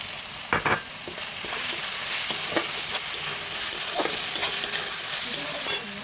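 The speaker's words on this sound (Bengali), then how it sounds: "এবার আমি যে ডিমটা ভেজে রেখেছিলাম সেই ডিমটা দিয়ে দিচ্ছি।" Vegetables tossed with pre-fried egg for spicy chicken ball chow mein hiss loudly in a hot pan, a steady sizzle punctuated by a few spatula knocks and scrapes, close and unvoiced.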